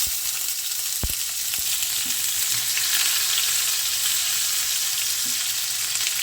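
Onions frying in oil in a pan for a bottle gourd peel fry, a loud, continuous hiss of sizzling with a couple of brief clicks near the start, close and unbroken.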